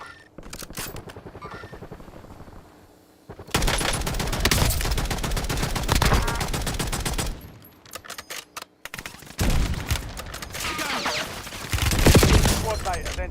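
Bursts of rapid automatic gunfire and fusillades in a battle-royale video game, loud and close, broken by short quieter gaps, with a helicopter-like drone and occasional game voice lines.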